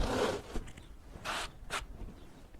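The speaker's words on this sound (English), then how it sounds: "the whining, squeaking sound is just the kiln dried lumber" A Wood-Mizer resaw attachment cutting kiln-dried red oak lumber gives off whining, squeaking scrapes in a few separate bursts, close and fairly steady, with no talking.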